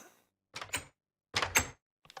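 Door in a Minecraft world, with three quick bursts heard as the wooden door swings open and shut, each a short clattering thunk separated by silence.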